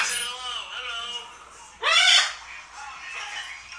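A pet bird lets out a harsh, raspy call partway through, loud and close, with people talking and chattering over the moments before and after it.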